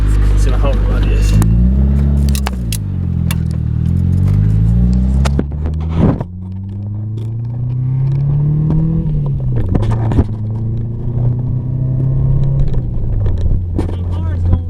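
A Honda Del Sol with a freshly repaired five-speed transmission drives along, its engine droning loudly up close and rising and falling in pitch with shifts and acceleration, with cabin rattles over the rumble.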